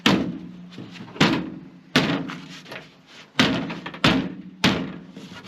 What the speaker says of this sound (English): just give it kind of a little hit with the butt of your hand until you get the first one lined up and started